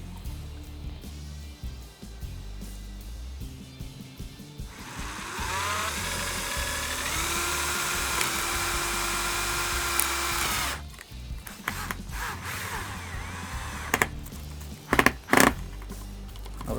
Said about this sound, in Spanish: Apretamos los tornillos